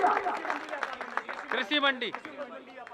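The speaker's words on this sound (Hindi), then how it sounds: "जोरदार तालियां" Audience at a Hindi religious gathering about cow protection claps steadily in a loud, dense patter, while a voice talks over the applause throughout.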